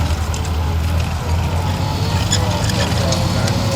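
A small tracked armoured carrier with a steering wheel drives in a parade at the War & Peace Revival, Hop Farm, Kent, its engine a continuous loud rumble while someone talks over it.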